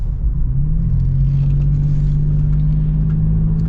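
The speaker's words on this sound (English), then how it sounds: "it feels good to drive because you've got so much torque with this 4-liter V6" Toyota 4Runner TRD Pro with its 4-liter V6 engine while driving: a steady, loud low engine drone and road rumble holding an even pitch throughout, with no talking.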